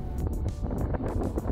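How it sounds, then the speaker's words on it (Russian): Strong gusts blow across the microphone on Liberty Island, a continuous rough buffeting roar that swells and dips in uneven pulses. "Погода сегодня ветреная"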